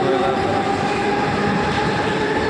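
A train moves through a railway station with a loud, continuous rumble of wheels and carriages close by, steady from start to finish with a faint metallic whine.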